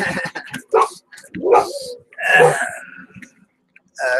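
A dog near a window gives a few short, rough barks and wheezy yelps in irregular bursts, close by, with pauses of quiet between them.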